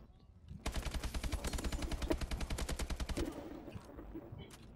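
A rapid automatic burst of gunfire in Call of Duty Advanced Warfare on a snow map, about two and a half seconds of steady fast shots that empty a magazine, loud and close, then fading tail sounds.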